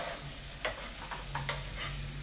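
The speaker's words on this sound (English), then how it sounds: "Give that a stir." Tapas sauce sweetened with soft brown sugar is stirred in a sizzling pan, with a steady fry hiss and a few scraping stir strokes, close and moderately loud, no talking.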